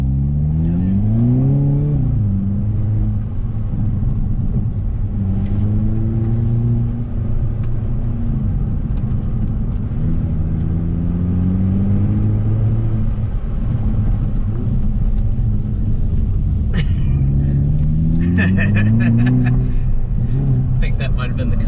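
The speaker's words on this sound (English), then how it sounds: "So here we are in the Kona N, and we're about to take it on the Auto Cross" A Hyundai Kona N performance SUV runs an autocross course, its engine repeatedly revving up and easing off through tight corners, loud and close from inside the cabin, while someone talks over it.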